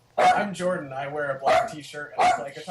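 A pet dog barks in short bursts at roughly even intervals, loud and close, overlapping someone speaking in an indoor interview.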